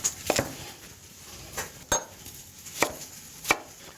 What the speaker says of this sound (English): Cut up some mirepoix, some carrots, a little bit of leek.